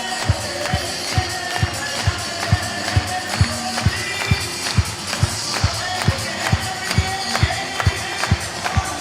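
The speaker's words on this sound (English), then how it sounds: "Clap those hands." A crowd claps along at a baseball game at Grayson Stadium, steady rhythmic handclaps on a regular beat over a busy stadium wash with music, loud and sustained.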